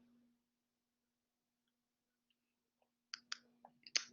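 A computer mouse clicks several times in a quick, uneven burst near the end after a long quiet stretch with a faint electrical hum.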